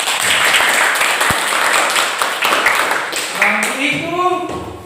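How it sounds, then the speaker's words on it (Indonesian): Classroom applause from teacher and students, a few seconds of dense clapping that fades as a voice begins talking. "Ya, tepuk tangan untuk kita semua."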